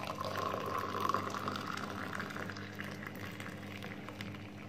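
Boiling water is poured steadily into a tea cup, giving a continuous soft trickling and filling sound over a low background hum, with no talking.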